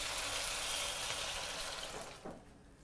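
Water poured into a claypot holding soya bean paste for Singapore-style braised fish, a steady broadband rushing pour that fades out toward the end, heard alone without talk.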